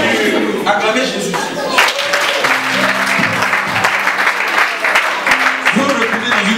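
A church congregation at a French-language Sunday service applauds, producing steady, dense clapping throughout as voices call out over it and scattered sung or shouted tones rise from the crowd.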